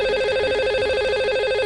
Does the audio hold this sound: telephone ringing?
yes